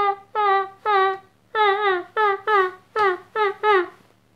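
A human voice imitates a porcupine with a series of about eight short, whiny, squeaky yelps in quick succession, close and fairly loud, with no other sound around them.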